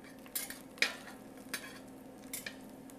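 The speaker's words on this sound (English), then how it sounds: "I'll saute this up." Garlic and spices sauté in oil in a pan, giving a soft, steady sizzle broken by a few light stirring clinks and scrapes, quiet and close.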